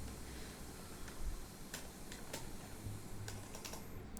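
Typing on a computer keyboard, a few faint scattered key clicks against steady low background hiss, with no talk.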